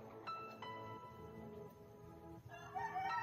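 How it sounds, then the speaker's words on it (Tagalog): A rooster crows outdoors in a couple of clear, close bursts separated by short pauses, its strained, rising calls standing out against faint background noise with no one talking. "May manok, narinig nyo ba yung manok?"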